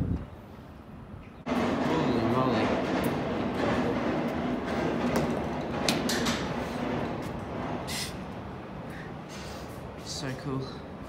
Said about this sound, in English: Bloody hell, that is a long train.